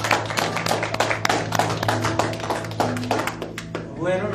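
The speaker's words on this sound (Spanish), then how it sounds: "Den un aplauso al Señor." Congregation clapping at a church service, rhythmic hand claps over continuous background music with a low steady hum, fairly loud and close, running the whole way through.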